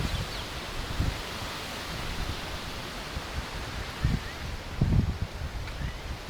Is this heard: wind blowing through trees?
yes